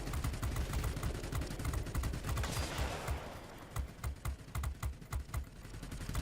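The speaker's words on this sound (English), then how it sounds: "And I see our guns are firing" Aircraft tail gun firing rapid, steady bursts in World of Warplanes, aboard an IL-40P, as a loud rattling stream of shots runs through the whole span with short pauses near the end.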